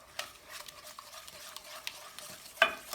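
Brownie batter being stirred in a bowl, a quick run of light scraping and tapping strokes from a utensil, fairly soft and close, ending with a sharper clink.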